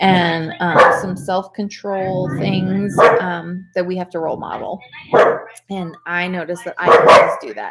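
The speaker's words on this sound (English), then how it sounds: "That's my dog." A pet dog barks and yips repeatedly in short bursts, fairly close, overlapping with a woman's ongoing speech throughout.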